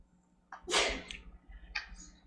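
A single sharp, breathy sneeze bursts out in a quiet committee meeting room, with a softer follow-up sound shortly after.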